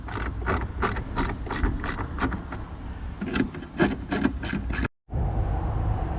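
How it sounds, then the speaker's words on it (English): A ratchet with a 10mm socket turning out tail light screws on a 2011-2017 Hyundai Veloster, rapid rhythmic clicking in two close bursts, then a brief pause before steady background noise resumes. "I'm gonna use 10mm socket with a ratchet and remove these two screws"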